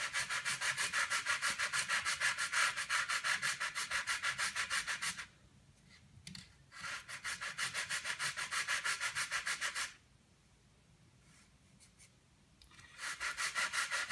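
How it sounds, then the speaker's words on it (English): Sandpaper rubs by hand across a wood surface in long, steady back-and-forth strokes, loud and close, with two brief pauses between passes and no talking. "Don't try to sand it off all in two swipes or three swipes. You just take your time."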